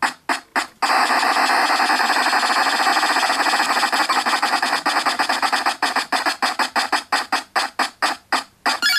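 Prize wheel spinning in the 1991 Wheel of Fortune video game, a loud buzzing electronic tone broken into rapid ticks that slow and spread apart as the wheel winds down.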